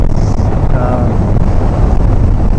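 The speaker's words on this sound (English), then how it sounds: "So it's really windy again right now." Strong wind roars and buffets the mic in a steady, loud low rumble, with a faint brief tone near the start.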